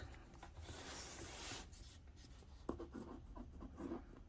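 Soft, steady scratching of a gel pen moving across paper, close up and quiet, with brief pauses between strokes.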